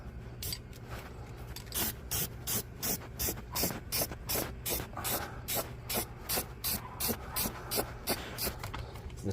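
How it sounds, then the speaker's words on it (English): Short hissing bursts of aerosol spray paint on a 1970s Pontiac Trans Am quarter panel repeat in a quick, uneven rhythm, fairly quiet and close, with a faint low hum underneath. "so I'm gonna have to spray it from this angle"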